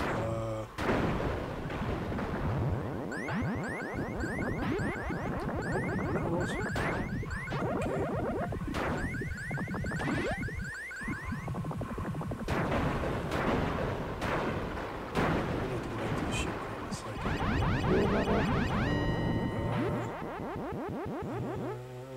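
Shots fire repeatedly in the Sega Genesis space game Starflight. Rapid zapping blasts, booms and chirpy electronic tones overlap in a dense, continuous barrage at steady loudness.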